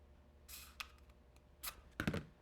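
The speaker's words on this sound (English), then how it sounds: "I'm going to use my scissors and cut" Scissors snip through a cardboard toilet paper tube for a craft, giving three or four crisp, separate cuts close up against a quiet room, with no talking.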